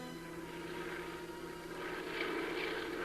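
Forestry Department airplanes drone overhead in a radio drama effect, a steady engine hum that swells slightly louder toward the end, with no talking.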